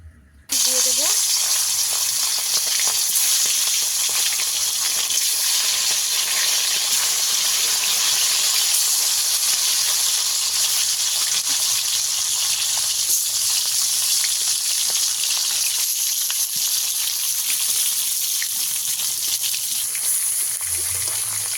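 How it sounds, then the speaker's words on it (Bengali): Oil poured into a hot pan over a lit stove for a pond-fish and potato curry, hissing into a loud, continuous close sizzle that holds steady throughout. "এদিকে উনুনটা ধরিয়ে নেব গরম হয়ে গেছে দিয়ে দেবো তেল"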